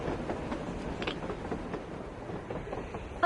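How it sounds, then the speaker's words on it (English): A train rolls past on the surface in the video game Metro Exodus, giving a steady rumbling clatter with rhythmic wheel clacks at moderate loudness and no voices over it. "A damn train on the surface!"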